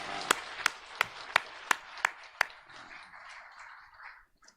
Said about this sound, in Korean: 우리 살아계신 주님께 영광의 박수 한번 올리겠습니다